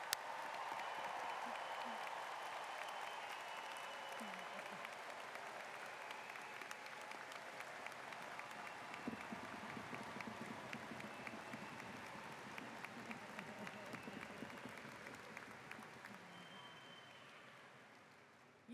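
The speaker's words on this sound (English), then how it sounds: "let's give one more boisterous round of applause and congratulations to the class of" A large commencement crowd honoring the class of 2020 breaks into sustained applause, dense clapping swelling at the start and holding steady for many seconds before slowly tapering off at the end.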